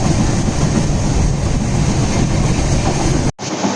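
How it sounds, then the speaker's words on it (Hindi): A double-decker express train between Madgaon and Khed runs fast on the rails, a loud, steady roar and rattle heard from on board, cutting off abruptly near the end before resuming more faintly. "काफ़ी रफ्तार भी पकड़ चुकी है ट्रेन।"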